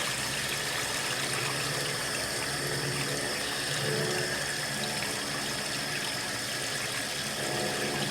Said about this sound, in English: Now we can shut it off. Let that drain out.